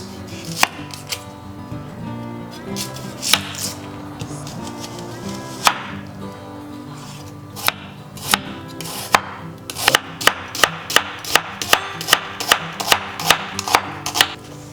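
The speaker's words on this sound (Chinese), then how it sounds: "洋葱切成片。" Knife slicing onion on a cutting board, with irregular chops early, then a faster steady run of crisp, close taps on the board near the end.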